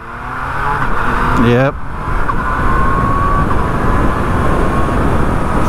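A 2020 Yamaha MT-09 motorcycle accelerates on smooth throttle: the engine note climbs briefly, then gives way to a loud, constant roar of engine and wind rush, with a single short word spoken.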